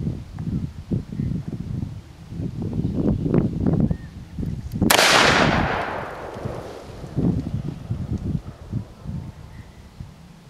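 A .44 Magnum Smith & Wesson revolver fired double action at an outdoor range day: one loud blast with a long decaying tail, amid rustling, handling noise and background talk.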